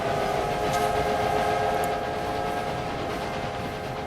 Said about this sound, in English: Okay, so my first train has left London.